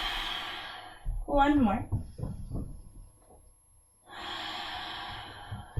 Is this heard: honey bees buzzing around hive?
no